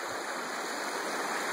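Creek water flowing steadily in Washington at a gold prospecting spot, a dense, continuous rushing hiss close by with no voices, constant in level throughout.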